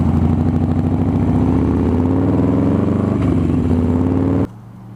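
A 2003 Buell XB9S motorcycle engine idles with a loud, close, steady throb that rises slightly as the bike pulls in, then the engine cuts off abruptly near the end.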